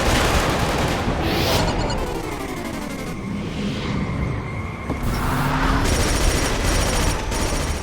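Gunfire rattles in the first-person shooter game Killzone 2, dense bursts of automatic weapons and booming impacts over a busy, loud battlefield backdrop, intensifying toward the end.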